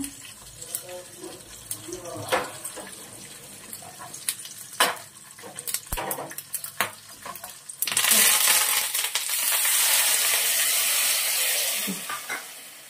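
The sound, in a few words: mustard seeds and green chilies sizzling in hot oil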